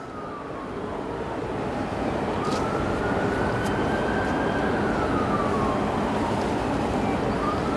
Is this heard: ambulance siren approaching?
yes